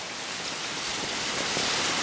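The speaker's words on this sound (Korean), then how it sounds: "우박이에요. 비가 아니고." Hail falling rather than rain, a dense, continuous hiss of countless small impacts that stays loud and close throughout, growing slightly stronger toward the end, with no voices.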